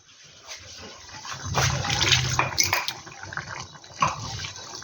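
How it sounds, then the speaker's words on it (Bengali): A mixer jar is rinsed out and the water poured into a pan of cooking masala, giving a splashing, gurgling gush that swells and tapers over a few seconds, close by. "ওই মিক্সির বাটিটা ধুয়ে একটু জল দেবো"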